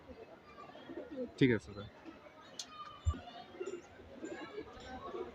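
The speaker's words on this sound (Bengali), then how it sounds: "আর এগুলো আমার খুব পছন্দের কবুতর।" Pigeons brought to a racing tournament coo softly in the background, with a few brief calls and flutters, while someone speaks a short phrase nearby.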